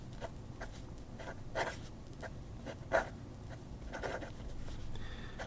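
A fountain pen with an 18 karat flex nib scratches faintly and closely across paper in short strokes, with no one talking.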